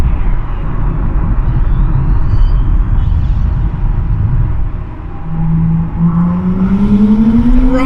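Audi S5 Sportback fitted with a downpipe and RS exhaust, a loud, continuous rumbling drone close by that dips briefly, then rises in pitch as the engine revs up, with no voices.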